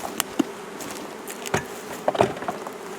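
Honeybees buzz close by, a soft continuous drone with individual bees briefly growing louder as they pass.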